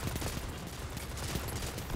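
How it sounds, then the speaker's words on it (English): Shotgun fire in a fast-paced video game, a dense, continuous barrage of loud overlapping blasts and gunfire across the whole stretch with no pauses. "this shotgun handles really, really fast"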